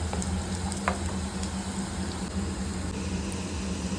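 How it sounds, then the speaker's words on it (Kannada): Paneer frying in a pan until golden brown makes a constant, dense sizzle with a few small crackles and pops near the start. "ಪನ್ನೀರು ಈ ಥರ ಫುಲ್ ಗೋಲ್ಡನ್ ಬ್ರೌನ್ ಕಲರ್ ಬರೋವರೆಗೂ ಫ್ರೈ ಮಾಡ್ಕೋಬೇಕು."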